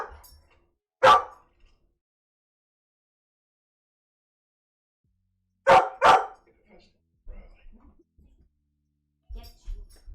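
A dog barks in short bursts: a single bark, then a quick pair a few seconds later, with quieter rustles and thumps in between and long silent stretches.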